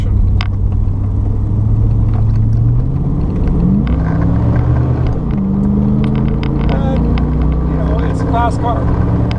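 Engine of a 1988 Chevrolet Corvette C4 coupe running while driving through gears and across an intersection, a loud steady cabin drone with shifting pitch as it accelerates, someone talking over it.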